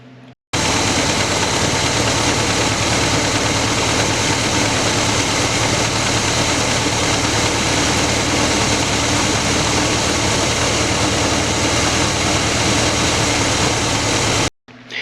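Worn Chevy C10 truck engine running steadily for about fourteen seconds, a dense, loud, unbroken rumble with a low throb, heard alone and close.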